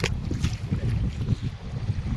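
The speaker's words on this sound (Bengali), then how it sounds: "কি ঢেউ দেখেন, পুরা বাতাস, যেমনি বাতাস তেমনি দেখছেন কত ঢেউ" Strong wind buffets the microphone aboard a fishing boat on the Brahmaputra river while choppy waves slap against the hull, producing a loud, continuous low rumble with irregular gusts and no voices.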